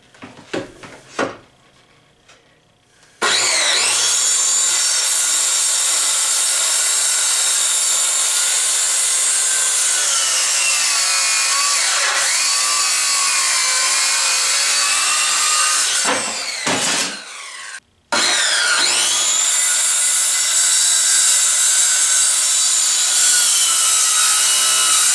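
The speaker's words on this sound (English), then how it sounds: "now we're just going to cut it with the saw" A saw cuts steadily through a wooden shelf board clamped to a straight guide, a loud continuous rasping drone that stops briefly midway, then resumes after a short gap and runs on to the end.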